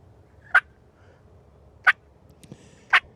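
A human voice imitates the excited cutting call of a wild turkey hen: three sharp, loud, clipped yelps spaced over about three seconds, with quiet gaps between them.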